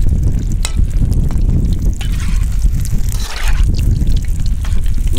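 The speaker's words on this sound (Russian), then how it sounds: "Все это жарится буквально минуты," Chicken fillet pieces fry in hot oil with a dense, continuous sizzle and crackle, loud and close, with faint stirring surges and no talk over it.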